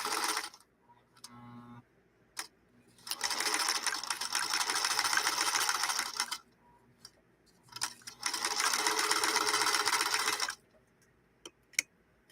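A sewing machine stitches a lock stitch in two long, steady runs, each a few seconds long, with quiet pauses and small clicks and taps between them, set up close with no talking.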